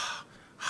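A voice imitates the labored, gasping breath of a lung patient on oxygen awaiting a transplant: two sharp, breathy inhalations separated by a brief pause, heard alone and up close.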